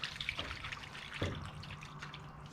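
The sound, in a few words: water trickling in a gas tank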